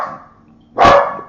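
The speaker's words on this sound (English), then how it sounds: "The dogs." A dog gives one loud, close bark after a softer whine-like sound.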